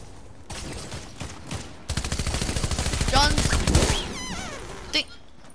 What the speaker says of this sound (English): there's a kid shooting at Leo